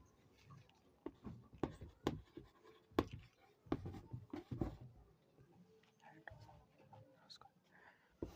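Pen scratching across paper during a math lesson, working out a land cost problem: quiet, irregular strokes and taps in bursts, close and faint, with some soft breathing or whispering in between.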